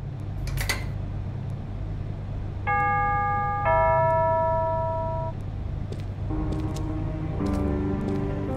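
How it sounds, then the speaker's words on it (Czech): A doorbell at the outer gate of a house in the adventure game Memento Mori, sounding a clear two-tone ding-dong chime, then a second chime, over a low ambient hum with no speech. "Někdo zvoní u venkovní brány."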